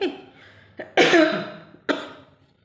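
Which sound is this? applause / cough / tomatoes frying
cough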